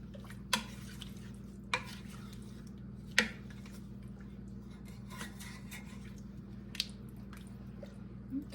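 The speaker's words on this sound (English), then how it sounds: "Okay, give that a stir" Garlic stirred into a pot of chili soup, heard as a few sparse, faint wet squishes and light spoon clicks against the pot over a quiet low background hum.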